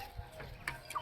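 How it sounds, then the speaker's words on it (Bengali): Small chickens cluck in a few brief, faint calls close by on a village homestead, no talking. "ওই যে ছোট ছোট মুরগি"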